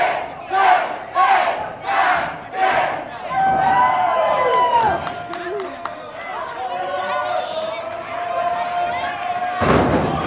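A loud arena crowd at a heavyweight championship wrestling match roars and cheers in rising waves, with a commentator talking over the noise.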